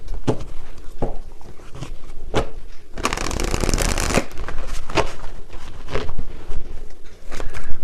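Tarot cards being shuffled by hand, crisp riffles and taps that come in short bursts with one longer dense flurry in the middle, close and fairly loud, with no talking.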